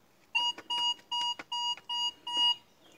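A metal detector sweeping for buried gold beeps outdoors, six or seven evenly spaced sharp electronic tones, loud and close, with no talk over them.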